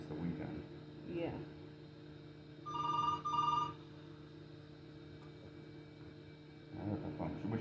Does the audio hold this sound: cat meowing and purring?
no